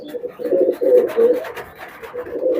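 Teddy Golden highflyer pigeons coo in low, rolling throaty phrases, close and repeated in pulses across the moment, with no talking.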